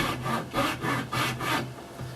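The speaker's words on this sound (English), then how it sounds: "I'm using a hacksaw because the wood saw is so much more aggressive" A hacksaw cuts through wood for a teardrop camper door latch, making four or five rhythmic rasping strokes in a steady back-and-forth pattern, close and clear with no talking.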